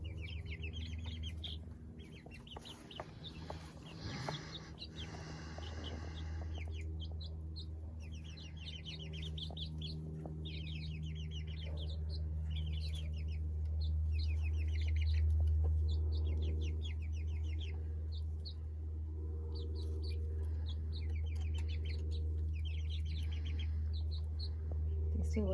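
Several young spring garden chickens cluck and chirp steadily after release into a new chicken run, with repeated close, busy calls over a low steady hum and occasional voices nearby.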